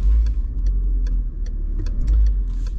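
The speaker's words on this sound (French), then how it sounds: "Nous voici donc au volant de la 307 essence" A 2006 Peugeot 307 with a 1.6-litre 16v petrol engine and manual gearbox, heard from inside while driving: a steady, loud low engine drone with a faint, regular ticking running over it.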